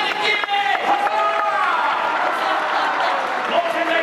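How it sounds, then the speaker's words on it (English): An audience at a Sleeping Beauty fan panel applauds continuously, a loud, dense wash of clapping mixed with shouts and cheers from the crowd. "come on, big round of applause!"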